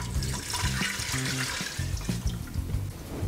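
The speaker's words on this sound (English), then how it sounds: "now we're gonna be adding in 4 cups of beef broth" Beef broth pours into an Instant Pot for beef stew, a short steady splashing and gurgling of liquid heard up close, moderately quiet, with no talking.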